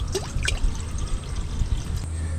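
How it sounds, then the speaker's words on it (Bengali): Water poured into a kadai (cooking pan) sitting on the stove, a close, steady splashing pour with small trickles and drips, quiet background hum. "কড়াতে জল দিয়ে দেবো।"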